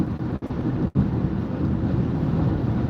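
Strong wind buffets a moving car on the road, a steady broad rumbling roar of air and road noise with a couple of brief dips, no talk over it.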